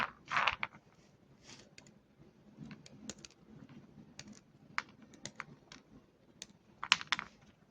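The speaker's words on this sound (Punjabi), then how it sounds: "ਇਸ ਤਰ੍ਹਾਂ ਲੰਬੇ ਪੀਸਾਂ ਵਿੱਚ ਆਪਾਂ ਕੱਟ ਲਾਂਗੇ ਕਰਦ ਦੇ ਨਾਲ" A knife cuts almonds into long slivers for rice kheer, giving sharp, close clicks and taps against a board in an irregular rhythm, with quiet gaps between cuts.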